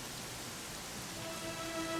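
Steady rainfall in the video game Dragon Quest XI, a constant soft hiss of drops heard alone at low volume, with a faint thin tone rising near the end.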